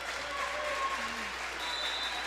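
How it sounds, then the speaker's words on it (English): A student section cheers as a steady crowd roar in a gym during a high school district volleyball championship, heard at a distance beneath a commentator's voice. "Now, the Eastwood student section now starting to get a little bit loud."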